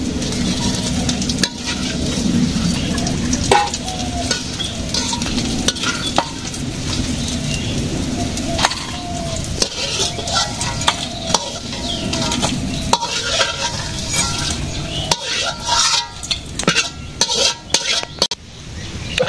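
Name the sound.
Malabar spinach fritters frying in oil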